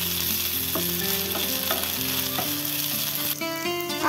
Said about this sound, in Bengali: আদা রসুনের পেস্টটা দিয়ে আবারও একটু পেঁয়াজের সঙ্গে কিছুক্ষণ সময় নিয়েছি ভালো করে ভেজে নেব